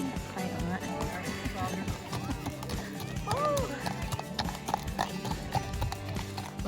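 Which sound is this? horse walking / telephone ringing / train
horse walking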